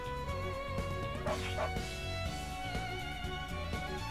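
A dog in the video game SaGa Scarlet Grace gives short repeated yips and barks over layered game music, several bursts spread across the stretch.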